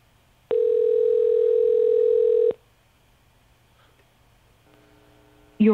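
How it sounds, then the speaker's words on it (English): A phone call tone sounds: a single steady electronic ringback tone held for about two seconds, then quiet line hiss, a faint shorter tone and a brief burst at the end. "It's ringing again."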